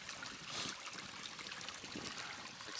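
A small creek flowing over rocks on a warm December day along the Pacific Crest Trail, a soft steady broadband babble with no voices.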